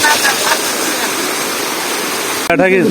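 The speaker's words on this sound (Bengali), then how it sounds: "এখানে উপরে হয়তো সবচেয়ে বড় যে ঝর্ণা সেই ঝর্ণাটা কিন্তু উপরে" A large waterfall in the hills at Ghagra, Rangamati, gives off a loud, continuous roar of rushing water that fills the scene, cut near the end by a brief burst of a human voice.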